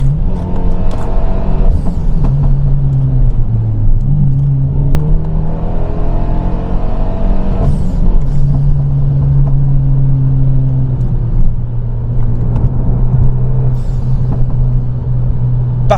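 Renault Megane 3 RS engine revving hard and settling into a loud, steady drone, rising and falling in pitch as the car accelerates, heard close and continuous with no talk.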